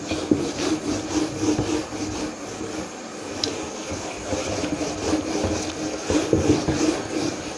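A classroom board being rubbed clean during a maths lesson: a steady, loud scrubbing and rubbing that continues without a break, heard close up and alone, with no talking.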